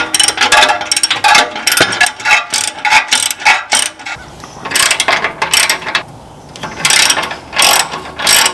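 A hand ratchet clicks rapidly in repeated bursts while loosening exhaust bolts under a manual Toyota GR86, loud and close with brief pauses between strokes.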